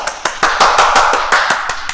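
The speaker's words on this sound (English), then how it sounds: "And everybody start clapping" An audience clapping in unison, sharp regular claps about four per second ringing out loud and close for a couple of seconds, with no talking.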